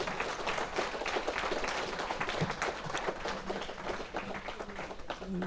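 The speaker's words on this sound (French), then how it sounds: "Je pense qu'on peut applaudir Guillaume." Conference audience applauds a speaker with sustained, fairly close clapping that thins slightly toward the end, where a voice begins to come through.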